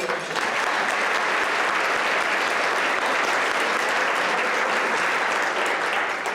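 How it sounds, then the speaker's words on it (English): Audience applause at the 2019 Women of the World Breakfast, a steady, dense roomful of clapping that stays loud and even throughout, with no voices over it. "let's give them a round of applause"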